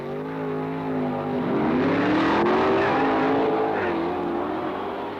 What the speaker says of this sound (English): Joe Lunati will be in the far lane, a blown Chevy engine, fiberglass Camaro body.